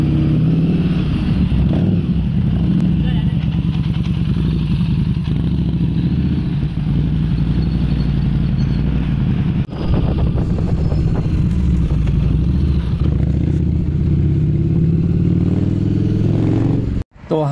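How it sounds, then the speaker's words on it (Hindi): A Harley-Davidson 750cc motorcycle engine drones loudly and steadily throughout a ride, with wind rush and clattering over the road and a sharp cut near the end. "तो चलिए एक राइड लेते हैं, देखते हैं कैसा है, कैसी रहती है हार्ली डेविडसन 750cc की।"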